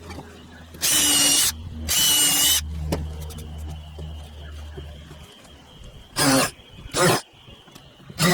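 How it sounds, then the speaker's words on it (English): A countersink bit in a power drill recesses screw head holes in a wooden wall bracket, with four loud, separate bursts of whirring drilling, two close together at first and two shorter ones later, between quieter workshop handling noises. "I used a countersink bit to recess the screw head positions."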